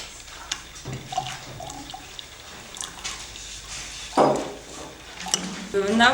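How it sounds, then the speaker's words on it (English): Boiling water is poured into a laboratory beaker, giving a short liquid gurgle and a rising filling tone near the end, with quiet room noise and faint clinks around it. "And carefully pour into it boiling water."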